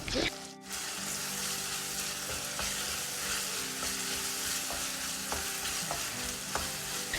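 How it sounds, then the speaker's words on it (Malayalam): Tomato and ginger garlic paste sautéing in a pan in a home kitchen, a steady close sizzle with occasional stirring clinks and scrapes throughout. "ഇഞ്ചി വെളുത്തുള്ളി പേസ്റ്റും ചേർത്തൊന്ന് നന്നായിട്ട് വഴറ്റിയതിന് ശേഷം"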